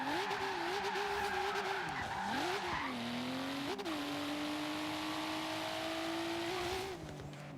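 A modified Volvo 850R with about 740 horsepower slides in a drift, its tires squealing in a long, wavering screech over the engine's steady drone, close and loud before easing off near the end.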